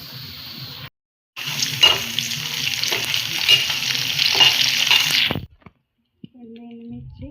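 Curry leaves crackle and sizzle in hot tempering oil with seeds and peanuts for wheat rava upma, a loud, close frying hiss with stirring that cuts out abruptly twice.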